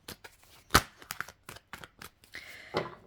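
Tarot cards shuffled by hand up close, a run of crisp slapping riffles in quick irregular bursts, ending with a longer ruffling swish, with no talking.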